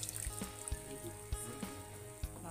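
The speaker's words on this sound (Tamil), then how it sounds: "இப்போ அந்த புளி கரைசலை" Tamarind water hits fish masala in a hot pan for Kerala-style fish pollichathu, giving a steady soft sizzle and bubbling hiss with occasional faint clicks and spatters, fairly quiet and with no talking.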